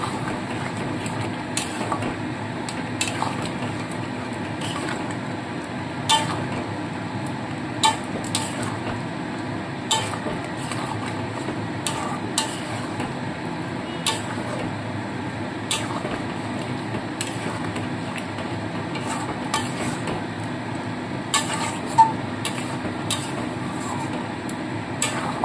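Mutton korma ingredients with yogurt being stirred in a pot, a long stretch of soft scraping and occasional metallic clinks of a spoon against the vessel, close and steady over a low kitchen hum.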